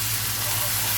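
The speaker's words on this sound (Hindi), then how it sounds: "चिकन को अभी हम अच्छी तरह से भूंजेंगे इसको एकदम।" Chicken sizzles and fries in a pressure cooker, a dense steady hiss close up filling the whole brief moment.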